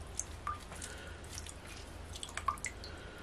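Faint, sparse drips and small squishes of lemon juice falling into a bowl holding about two litres of water, with soft wet pops scattered over a quiet background.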